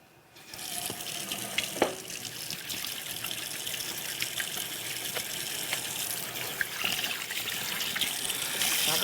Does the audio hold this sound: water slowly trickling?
yes